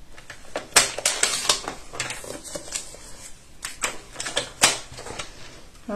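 Excess paper trimmed off for a pocket-page scrapbook mini album, a run of quick crisp snipping and clicking cuts close by, irregular and uneven in rhythm, with no voices.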